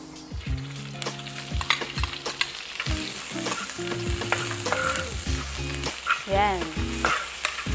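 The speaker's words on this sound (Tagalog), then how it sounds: "Then, saute natin yung ating onions" Onions sautéing in olive oil, a steady close sizzle broken by frequent clanks and scrapes of a utensil stirring the pan, with a brief spoken word.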